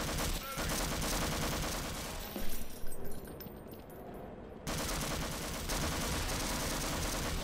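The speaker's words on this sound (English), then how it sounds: "Why is he shooting me?" Sustained gunfire from a non-player character in Half-Life co-op play, a dense loud rattle running through most of the stretch, thinning briefly in the middle before resuming at full strength.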